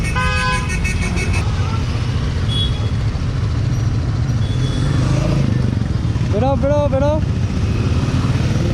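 A large group of motorbikes on a forest ride sets off together, engines rumbling loud and steady throughout, with horn toots at the start and a clear horn blast near the end, while people talk over the noise.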